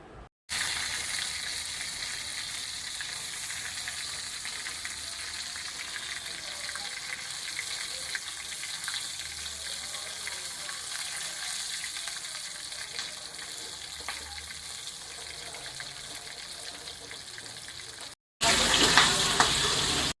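Pieces of katla fish coated with salt and turmeric fry in a pan with a continuous, dense hiss and crackle of hot oil. The sizzle stays steady for nearly twenty seconds before a brief louder burst.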